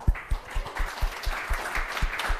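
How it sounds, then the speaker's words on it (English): Audience applause at a workshop session, a scattered round of clapping with distinct claps close by, moderately loud and sustained, with faint talk in the background. "Round of applause."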